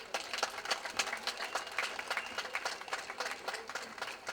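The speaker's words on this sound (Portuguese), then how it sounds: "eu gostava de pedir uma calorosa salva de palmas para o Sr. Doug Alves" A crowd at the Bodo de Leite parade in Hudson in 2004 gives a warm round of applause for Doug Alves. Dense, steady clapping runs throughout and sounds somewhat distant and soft.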